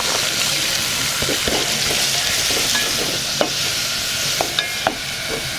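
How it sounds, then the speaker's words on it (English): Onions and carrots stir-frying in oil while being caramelized for a prawn curry in Lamu Island, Kenya: a steady sizzle with scraping stirs and a few sharp utensil clicks toward the end, close and fairly loud, no talking. "she first stir-fried some onions and carrots and caramelized them in some oil"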